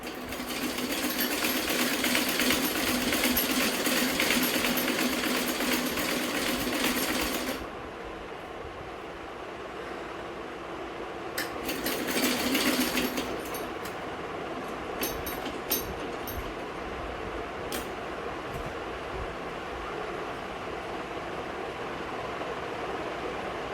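A sewing machine stitches clothes at home in a loud, continuous whirring run for several seconds, stops, then gives a second short burst, with faint clicks and handling noises afterward.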